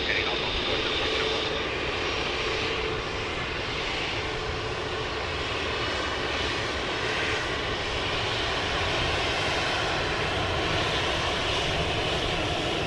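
A jet airliner roars steadily on landing approach to runway 34 left at Sydney Airport, a broad, sustained engine rumble heard from a distance for the whole stretch, with no pauses.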